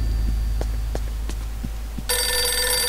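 A telephone in the game Eternal Darkness: Sanity's Requiem breaks into a loud, bright ring near the end, after a low humming ambience with soft, evenly spaced thumps like a slow heartbeat.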